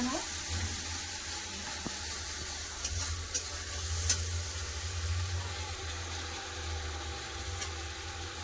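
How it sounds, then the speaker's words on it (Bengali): Ground onion paste fries in a pan with whole spices in a home kitchen, a steady, even sizzle that runs unbroken throughout, fairly quiet with no talking. "পেঁয়াজ ভাজা হচ্ছে"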